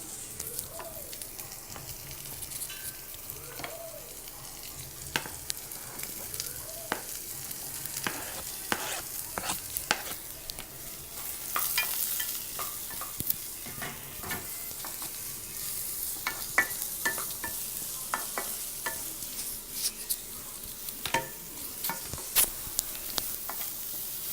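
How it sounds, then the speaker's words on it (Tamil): Onions sauté in a pan with ginger, garlic and green chillies for a dal side dish, a continuous crackling sizzle dotted with frequent light stirring clicks, close and even in level throughout, with no voices. "இஞ்சி பூண்டு பச்சை மிளகாய் எல்லாம் வதங்கி கொஞ்சம் நேரம் ஆனதுக்கப்புறம் கட் பண்ணி வச்சுருக்கிற வெங்காயத்தையும் ஆட் பண்ணிடலாம்"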